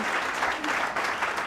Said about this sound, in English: Can we give Tom Spanbauer a hand?